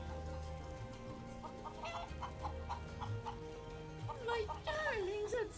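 Chickens cluck softly in a Final Fantasy 7 Rebirth farm setting, short scattered calls over a quiet ambient game background, with a brief warbling tone near the end.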